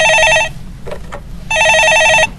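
A telephone rings loudly in two long electronic trilling bursts separated by a pause, with faint background noise in the gap, during a live stock market call-in show.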